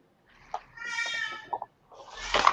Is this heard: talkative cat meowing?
yes